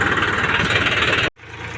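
A tractor engine idles with a steady, throbbing rumble, then cuts out abruptly near the end, leaving a quieter hum.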